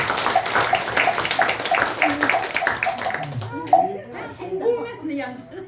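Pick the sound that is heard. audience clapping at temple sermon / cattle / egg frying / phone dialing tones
audience clapping at temple sermon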